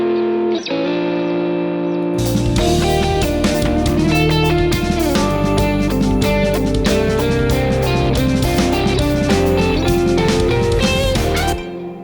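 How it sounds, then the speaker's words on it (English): Distorted electric guitar doubled by a second layered guitar part, playing together loud and dense with heavy effects, entering after a sparse opening note and sustaining to the end, no talking. "So if you hear the guitar and this double layer happening at the same time, it sounds like this."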